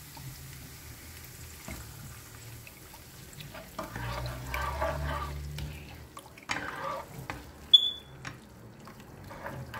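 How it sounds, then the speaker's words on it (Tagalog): Coconut milk for squid is stirred in a pan, with soft bubbling and sizzle under irregular scraping and clinking strokes of a spoon, close but fairly quiet, and a sharp tap near the end. "kailangan natin i-maintain ang paghalo hanggang sa magmantika na ang ating gata"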